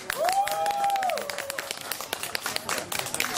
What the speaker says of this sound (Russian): под аплодисменты жители встречают новое освещение